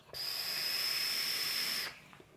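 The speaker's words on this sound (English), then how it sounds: "Very flavorful, very smooth airflow, despite it having a small whistle to it." A Wake Mod Company Wake RTA vape tank gives a steady, fairly loud airflow hiss with a thin high whistle riding on top, held for nearly two seconds before cutting off into quiet.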